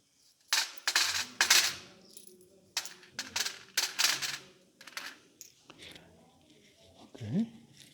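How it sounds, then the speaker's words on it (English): A handful of coins clink and rattle as they are dropped as a donation onto a surface in quick bursts, followed by a brief voice. "I take my coins and just leave them here as a donation"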